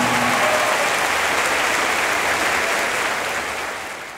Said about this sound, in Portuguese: Vamos aplaudir nossa mãe!